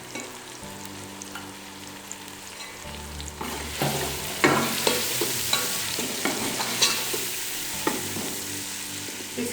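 Black pepper, dried coriander, garam masala and cumin roast in a hot pan with a steady close sizzle, swelling louder as stirring and scraping clatter in.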